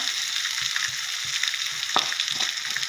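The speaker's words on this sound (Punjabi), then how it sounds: "ਤੜਕਾ ਸਾਡਾ ਪੱਕ ਚੁੱਕਿਆ ਤਾਂ ਹੁਣ ਆਪਾਂ ਇਹਨੂੰ ਪਾਵਾਂਗੇ ਸ਼ਿਮਲਾ ਮਿਰਚ ਦੇ ਉੱਪਰ" Steady hot-oil sizzling fills the clip, with a brief louder hiss and crackle as hot tempering oil is poured over capsicum.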